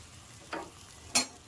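A spatula scrapes twice through shol fish sour curry with salt in a frying pan, two short close stirring swipes over a quiet sizzle.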